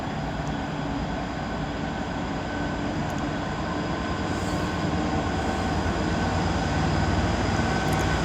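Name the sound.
Class 220 cross-country train departing Coventry station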